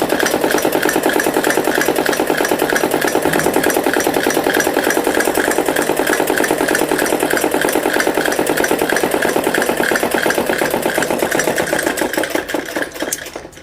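Sewing machine stitching a Patiala salwar, a loud rapid mechanical rattle running continuously at an even pace and easing off only at the very end, with no voices.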